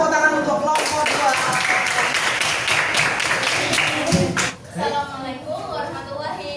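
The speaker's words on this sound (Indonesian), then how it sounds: "Beri tepuk tangan untuk kelompok 2" Applause for a presenting group of students at a classroom performance assessment, a dense sustained clatter of many hands clapping through most of the stretch, fading near the end as talk begins.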